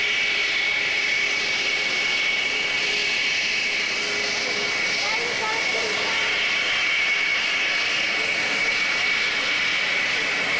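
A Concorde supersonic jet rolls down the runway at a San Diego airshow with a steady, loud, far-carrying engine roar that holds constant, as a crowd or announcer speaks faintly beneath it.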